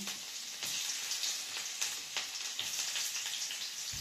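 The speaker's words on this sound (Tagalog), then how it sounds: "Prito lang po natin ng konti." Garlic sizzles steadily in hot oil, with a dense crackling hiss and occasional louder pops, close up and without any talking.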